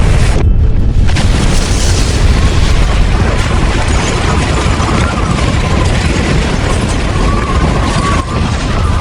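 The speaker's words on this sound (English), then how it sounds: "This is the largest US fission bomb, equivalent of 500 kilotons of TNT." Explosion of the largest US fission bomb test, 500 kilotons, heard as a loud, sustained, deep rumbling roar that fills the whole stretch without letting up.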